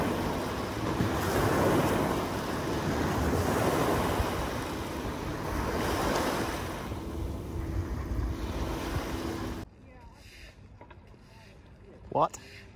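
Wind and surf-like water wash over the Thames foreshore in London, a steady roar of rushing wind and lapping water that cuts out abruptly near the end, leaving quieter ambience and a brief voice.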